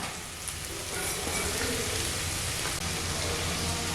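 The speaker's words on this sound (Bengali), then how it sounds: "এই সময় আমি এর মধ্যে দিয়ে দিচ্ছি ছোট ছোট করে টুকরো করে কেটে রাখা পালং শাক।" Chopped spinach hitting a pan of frying spice masala in oil, giving a steady, dense sizzle like rain, close and even throughout with no talk.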